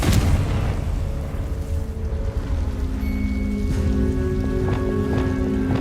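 A Confringo explosive spell in Hogwarts Legacy goes off as a deep, rumbling blast that trails into lingering low rumble and tonal magical hum, with a few sharp crackling pops afterward.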